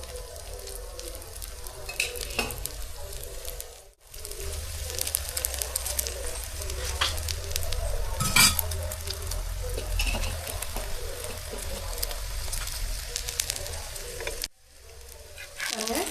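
A cheese and potato stuffed paratha fries in oil on a pan with a steady close sizzle, dipping briefly twice, with faint scraping and no clear speech.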